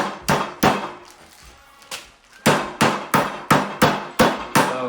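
Veal cutlets for Wiener Schnitzel being pounded flat with a meat mallet: a loud, close series of sharp, regular thuds, about a dozen blows, with a short pause partway through.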